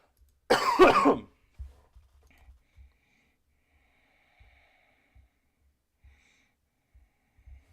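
A single harsh, close cough bursts out, followed by near silence with faint breaths and small shuffling sounds.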